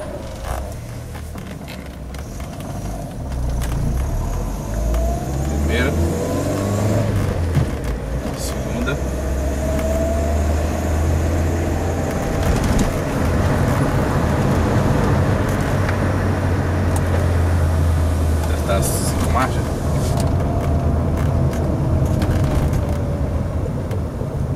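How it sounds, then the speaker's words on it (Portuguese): Car with a VW EA827 (AP) engine driving on a short brake test run, a steady low road and engine rumble with faint creaks, under someone talking throughout. "Vamos só dar uma voltinha pra testar o freio."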